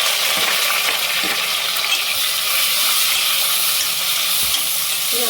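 Chopped large onions sautéing in a pan for a chicken gravy give off a steady, close sizzle and frying hiss, with faint stirring scrapes and no talk.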